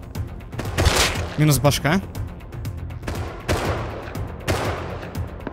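Bursts of video game gunfire during an online raid in a survival shooter, with sharp volleys of shots near the start and again around the middle and end, while players talk over it in Russian.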